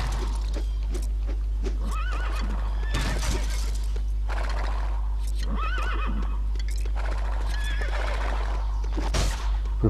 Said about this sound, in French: Oui, un cheval.